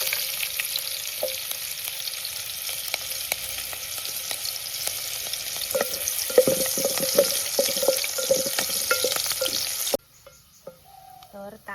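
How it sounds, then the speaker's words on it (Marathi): Onion hits hot oil for a tempering in a village kitchen, giving a loud steady sizzle with stirring scrapes, close by; the frying cuts off abruptly near the end, leaving a quiet room. "तर मस्तपैकी तेल तापला कांदो घालते फोडणी."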